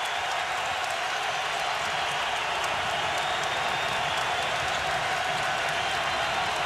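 Basketball arena crowd at Gonzaga versus Tennessee roaring and cheering late in a close game, a dense, steady wash of loud crowd noise with no breaks.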